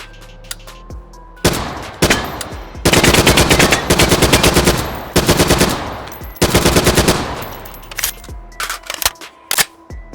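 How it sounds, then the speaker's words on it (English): An ICR-1 assault rifle from Black Ops III fires in the VR shooter H3VR. Several long, loud automatic bursts are followed by a few separate single shots, with no voices over them. "let's start with the ICR-1. Basically, Black Ops 3's M4"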